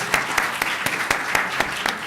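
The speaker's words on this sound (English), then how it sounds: "Give her a round of applause." An audience applauds at a New York City housing and support panel event, sharp close claps in a steady rhythmic pattern over a softer bed of wider clapping.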